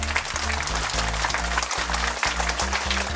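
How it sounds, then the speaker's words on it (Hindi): An audience at a church silver jubilee celebration in Kalapahad, Andaman, claps hard in a continuous rush of many hands, with a low sustained tone held underneath throughout. "तो हम सब जोरदार ताली बजाकर ईश्वर की स्वागत करते धन्यवाद देंगे"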